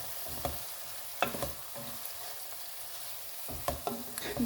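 Ground coriander and onions are stirred in a frying pan. The sizzle stays low and steady under repeated scraping strokes of a spoon, with sharper clicks at irregular intervals and no voices.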